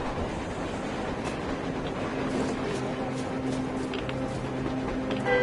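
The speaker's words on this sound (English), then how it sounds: "Looks like they're chasing that train too!" Train rumbling past in the video game Metro Exodus, a steady mechanical roar with a low hum running throughout, fairly loud and continuous with no talk over it.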